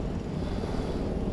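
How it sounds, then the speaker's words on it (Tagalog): A helicopter flies overhead at Yishun Park in Singapore, heard as a continuous low rumbling engine drone that holds steady throughout, with no talking. "May helicopter dito."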